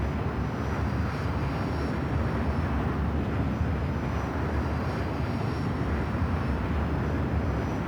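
An aircraft on landing approach in the PSP game Ace Combat: Joint Assault makes a steady, moderately quiet engine drone, an unbroken rushing hum with no speech.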